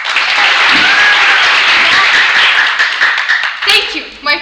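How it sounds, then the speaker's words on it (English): Audience applauding at a Grade 11 school play, a dense, loud wash of clapping that holds steady, then thins out and breaks into a few scattered claps at the end. "Applause."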